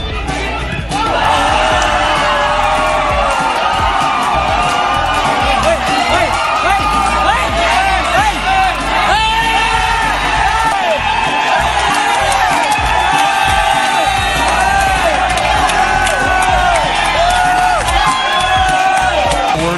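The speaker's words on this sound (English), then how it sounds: "He wants the crowd to cheer his performance" A large sports crowd roars and cheers continuously at a stadium, a loud dense wall of voices with whoops and shouts, with commentary audible over it.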